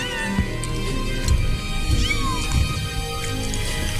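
Fluffy the cat in Final Fantasy 7 Rebirth meows and yowls plaintively several times, close and fairly loud over a steady game background hum.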